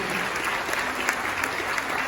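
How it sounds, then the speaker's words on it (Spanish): A church congregation applauds during a Spanish-language prosperity retreat service, a steady wash of many hands clapping at moderate level with no voices standing out. "Un aplauso al Señor que nos viene a dar esa vitamina para nuestro espíritu"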